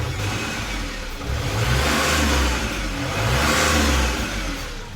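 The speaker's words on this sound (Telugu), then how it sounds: "సో ఒకసారి ఇంజిన్ సౌండ్ అయితే విందాం" Ashok Leyland Saathi small commercial truck with a 1.5-litre three-cylinder turbocharged diesel engine, revved twice from idle: a steady, loud diesel drone swelling in two sustained rises, with no talk over it.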